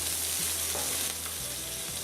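Garlic, onions and carrots stir-frying in a pan, a close, dense sizzle with faint stirring knocks underneath.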